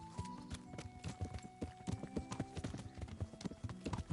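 Horse hooves clip-clop at a steady walking rhythm in the medieval game Kingdom Come: Deliverance, close and distinct over a low game soundscape, with a faint whinny possible and no clear talk.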